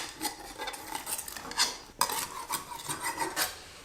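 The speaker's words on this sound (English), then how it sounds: "Run the knife through the ends." Knife run along the edges of a baked vegetable lasagne in its dish, giving close, quiet scraping and rasping strokes with a few clinks of metal on the dish.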